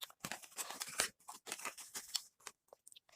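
A plastic bag holding Harry Potter merchandise is torn and opened by hand, giving close, loud crinkling and crackling bursts in quick irregular runs with short pauses between them.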